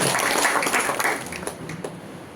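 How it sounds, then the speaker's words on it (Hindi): Seminar audience at a business meeting breaking into applause for people stepping forward, a dense burst of clapping that tapers off over a couple of seconds. "जो साथी आ जाए उनके लिए जोरदार तालियां"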